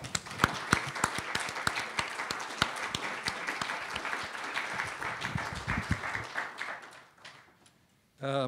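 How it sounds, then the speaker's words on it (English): Audience applause for three panelists at a public forum, a dense wash of many hands clapping that goes on steadily for about seven seconds, then dies away before a voice begins speaking. "I'd like you to give a round of applause for all three of the panelists"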